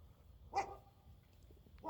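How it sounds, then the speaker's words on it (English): A dog in a garage gives a single short bark, then a faint start of another at the end, heard from a little distance at low volume with no talk. "That dog's too loud."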